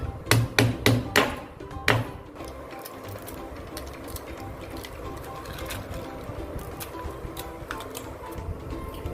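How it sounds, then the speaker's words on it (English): Caramelized nut praline is crushed on butter paper, opening with a run of sharp, loud pounding knocks that give way to steady, softer crunching and grinding, with no talking. "So we have crushed the pralines into two sizes."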